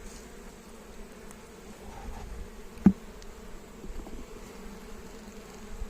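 Honey bees hum softly in an open hive with a sparse population, a faint, steady low buzz broken by one brief knock partway through.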